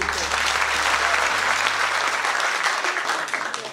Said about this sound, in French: je vous demande d'applaudir mes colistiers